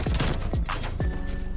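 A nail gun fires in Call of Duty Cold War, three sharp, punchy shots with quick thumping tails spaced about half a second apart, close and clear over faint game ambience.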